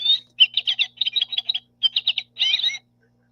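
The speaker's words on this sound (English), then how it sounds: "this is what a goldfinch sounds like" A goldfinch sings a bright, rapid string of twittering phrases in short bursts, clear and close against a quiet background.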